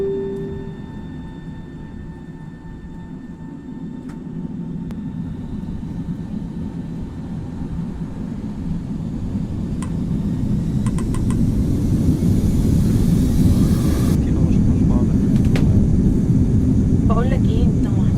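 An airplane cabin in flight at about 35,000 feet with some turbulence, a steady loud engine rumble and air roar that swells a little, under an announcement voice.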